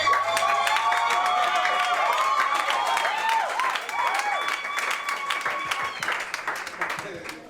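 Wedding guests applaud inside a church, a dense, steady wash of clapping that fills the room, with voices and bright chatter running underneath and the clapping easing slightly toward the end.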